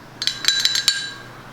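Metal spoons stir beef MRE meals in their pouches, giving a quick cluster of bright clinks and scrapes for under a second before the sound fades to a quiet room hum.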